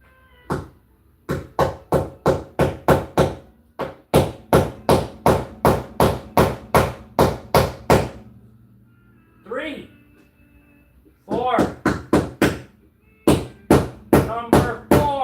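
Repeated hammer blows while assembling a flat pack shoe rack indoors, sharp rapid knocks in several bursts with short pauses and a brief other sound between them, close and loud.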